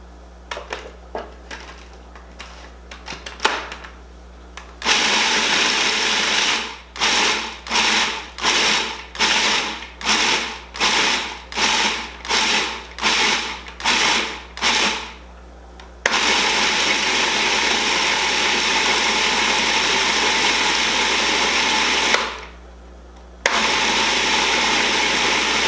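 A food processor chopping a pecan bar crust mixture: a burst of continuous whirring, then a quick run of about a dozen short rhythmic pulses, followed by longer loud runs of the motor with a brief pause between them.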